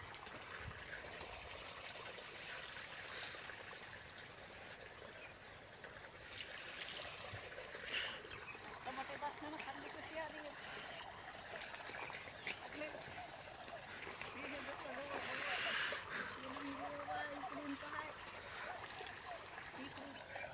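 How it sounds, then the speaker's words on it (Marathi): Water gurgles and trickles steadily while fenugreek and tomato plants in a village vegetable plot are watered, faint and continuous with low background noise. "मेथीला आणि टमाटर सारे ह्याला भाज्याला पाणी देणं चालू आहे."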